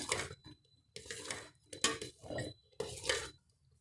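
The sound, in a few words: stirring rice and ghee in a pot for pongal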